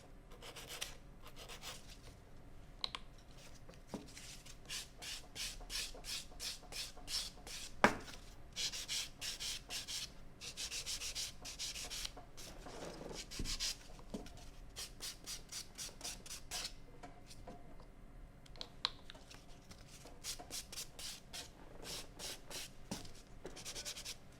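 Acrylic nails being filed, heard as quiet, rapid rasping strokes in quick repeated bursts with brief pauses between runs, close and alone with no voices.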